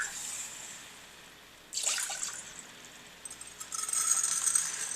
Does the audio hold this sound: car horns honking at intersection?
no